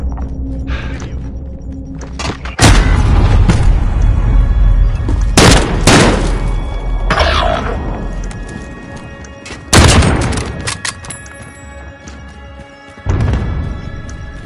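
Precision airstrike explosions in Call of Duty Modern Warfare multiplayer, several heavy booms and blasts landing in separate bursts with rumbling decay between them, loud and close.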